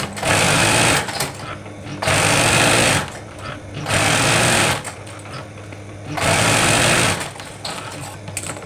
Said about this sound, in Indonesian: Jahit pinggirannya aja.